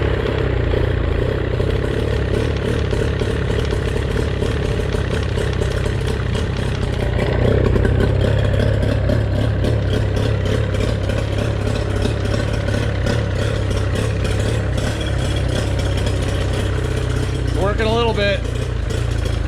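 A 1998 Tracker Super Guide V-14 side-console boat's engine runs steadily with a low, rough drone and clatter, struggling to hold an idle, while people talk over it throughout.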